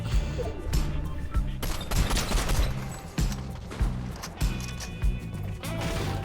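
Rapid gunfire in the shooter video game Grind Reload on a Squid Game map, with bursts of shots and heavy combat sound effects throughout, mixed with game audio and footsteps.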